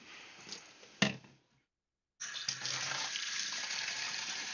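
Water from a tap runs into a sink to rinse a washcloth, a steady hiss broken by a sharp clunk, cut off for about a second, then gushing again at an even level.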